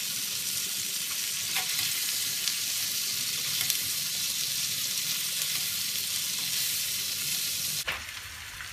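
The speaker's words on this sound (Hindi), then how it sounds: "एक मिनट भून लेंगे प्याज के साथ।" Spicy chicken and onions fry in a pan with a steady, loud, dense sizzle that hardly changes, then shifts briefly near the end as the food is stirred.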